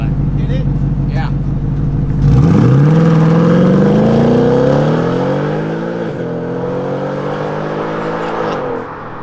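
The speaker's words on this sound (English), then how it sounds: "So Liam's also gonna give it a launch now" A car fitted with a ported intake manifold launches hard from idle, its engine note climbing steeply as it accelerates, loud and close. It then settles into a sustained high-revving pull with voices talking over it.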